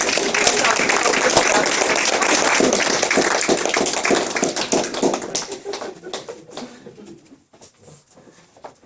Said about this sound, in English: could you please give Allan a nice round of applause?